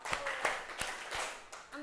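Several sharp hand claps spaced in a quick rhythm, close by, with a voice speaking between them.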